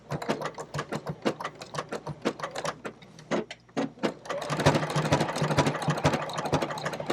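Sewing machine working a blanket stitch along paper-pieced quilting fabric, a close, steady run of rapid mechanical needle strokes with a brief pause midway before the motor picks up again, no talking.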